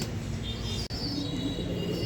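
Pigeons being fed on a cold, foggy morning, soft cooing calls under a steady background hum, with a brief dropout partway through.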